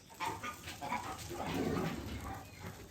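Several dogs bark and yip at a moderate distance in a noisy, overlapping jumble, with faint whimpering mixed in.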